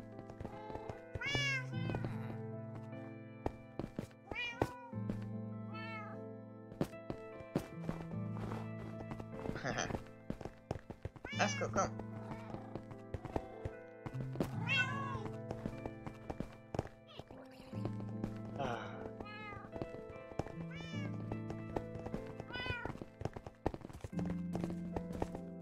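Cartoon cats meow repeatedly in the video game Catastrophic Pandamonium, their high calls rising over steady, bouncy background music with clip-clop effects, several meows spread through the stretch.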